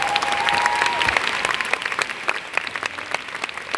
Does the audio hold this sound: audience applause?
yes